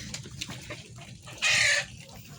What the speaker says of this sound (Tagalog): Meron din silang kasama mga native na manok dito.